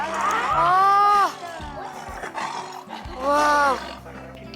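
A zoo tiger gives two loud, full roars at feeding time with a pause between them. People can be heard in the background.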